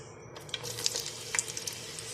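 Slit green chillies fry in a hot pan for chicken pickle, a bright crackling sizzle that swells after a quiet start, with sharp pops and spits scattered through it, close and steady.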